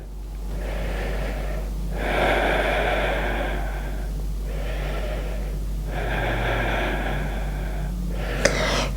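Slow, deep breaths during a yoga puppy pose stretch, long airy inhales and exhales in a steady rhythm, close and clear over a low background hum, with no talking.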